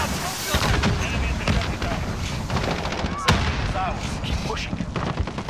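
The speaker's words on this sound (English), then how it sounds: "Grenade out." Loud Call of Duty MW3 battle din with dense gunfire and a sharp blast from a thrown grenade near the middle, steady throughout, with voices over it.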